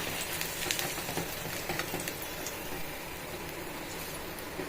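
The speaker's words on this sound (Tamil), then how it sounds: "மிளகாய் எல்லாத்தையும் பஜ்ஜி போட்டு போட்டு எடுத்துடணும்" Chilli bajji frying in hot oil for a rainy-day evening snack, giving a steady, dense crackling sizzle with small popping bursts throughout and no voices.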